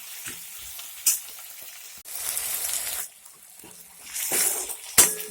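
Tomatoes cook in a pan for matki usal, a Marathi sprouted moth bean curry, giving a steady close sizzle broken by a few sharp clinks and stirring scrapes, with the frying swelling louder toward the end.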